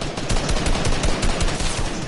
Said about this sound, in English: One just sniped me.